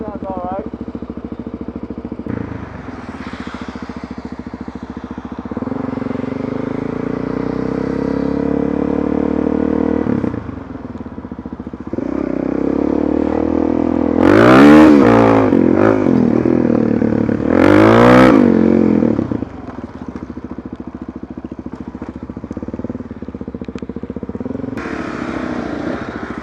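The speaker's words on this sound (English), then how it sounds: "Tell me that doesn't sound good though. The exhaust sounds amazing." A motorcycle exhaust drones steadily while riding in the rain, with engine pitch rising and falling through gear changes and a couple of louder revving surges, continuous throughout.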